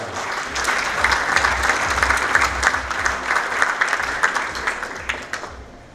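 Sustained audience applause welcoming keynote speaker Dr. Najwa Aaraj at the 2025 QIS conference, a dense, steady wash of many hands clapping that carries on for the whole stretch with no voices over it.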